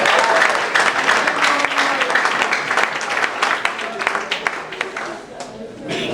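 A church congregation applauding to acclaim the Lord, with sustained loud clapping from a crowd that gradually thins out, and voices heard beneath it.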